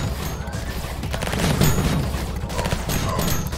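Rapid minigun fire in a video game, a dense continuous burst of shots with heavy recoil that swells louder midway and keeps rattling steadily throughout, with no talk over it.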